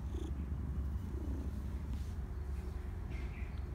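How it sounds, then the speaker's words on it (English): A cat purrs steadily and close up indoors, a continuous low rumbling purr with faint bird chirps in the background. "You hear him purring?"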